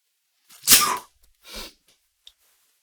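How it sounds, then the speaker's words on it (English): A single loud sneeze bursts out close by, followed by a softer breathy exhale and a faint click, with silence around it. "Gonna sneeze, can't mute it."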